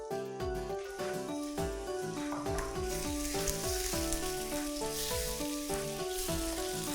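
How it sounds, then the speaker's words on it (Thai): Mackerel stir-fries in a hot pan after aromatics, with a continuous bright sizzle heard under steady background music. "หลังจากนั้นนะคะก็ผัดค่ะให้มีกลิ่นหอม เมื่อมีกลิ่นหอมแล้วนะคะก็นำตัวปลาทูค่ะใส่ลงไปเลย"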